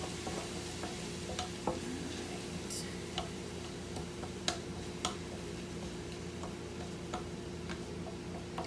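Diced onions and garlic sizzle softly in a pan with meat for turkey taco bowls, a steady quiet frying hiss broken by occasional light clicks and stirring taps.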